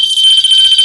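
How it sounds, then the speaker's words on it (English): A fire alarm sounds loud and continuous, a steady piercing electronic tone held for the whole short moment with nothing else heard. "That was a fire alarm."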